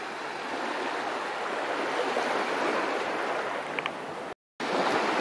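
Warm shallow sea water at a Koh Samet beach in Thailand washes steadily around wading feet, a continuous close rush of surf with a brief dropout near the end.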